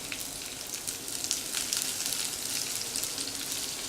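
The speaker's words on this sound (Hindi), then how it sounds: "अब मैं इसमें डाल दूंगी भिंडी को।" Okra frying in hot oil in a pan, giving a steady, dense sizzle with crackling spatter that stays even and close throughout, with no talk.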